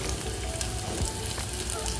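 Tempering of spices for onion and tomato dal sizzles loudly and continuously in a hot pan, a dense close frying hiss with faint stirring scrapes.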